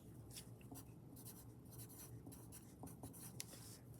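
A pen scratches across paper in short, quiet strokes, with a soft steady scraping and small taps close by and no one speaking.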